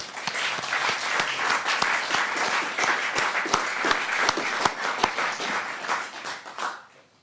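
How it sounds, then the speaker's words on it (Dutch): Audience applause at a book presentation for a Yiddish-Dutch dictionary, a dense steady wash of many hands clapping with a few sharper individual claps standing out, holding strong before fading away near the end. "En ook daarvoor een groot applaus."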